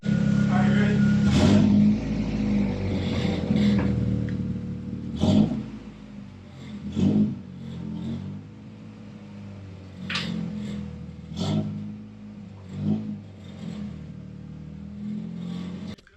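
Honda Prelude project car engine idling steadily, with a series of short, close revs blipping up every couple of seconds over the running engine.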